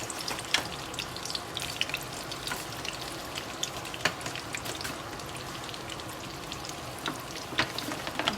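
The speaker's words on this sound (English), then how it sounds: "we're trying to fry the Duff, like let it get a little crispy outside" Dough fries and sears in a pan for Guyanese boil and fry, giving a steady, soft sizzling hiss with scattered small pops and crackles throughout, fairly faint and with no talking.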